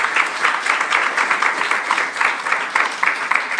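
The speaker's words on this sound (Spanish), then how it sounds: "aplauso al Señor" A congregation applauds during a Sunday church service, steady and fairly loud, the many hands falling into a loosely rhythmic, pulsing beat that never stops.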